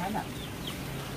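Chickens in a coop, a flock affected by Gumboro disease, cluck softly in a brief burst over a steady low hum, fairly quiet and close.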